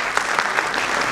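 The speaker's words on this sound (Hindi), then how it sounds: "एक बार अपने लिए जोरदार तालियां बजा दीजिए।" Audience at an Urdu poetry gathering in Indore applauding, a dense, steady wash of clapping that fills the whole short moment with no voices over it.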